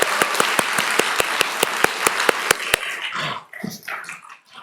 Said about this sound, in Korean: 우리 한번 박수 하십시다.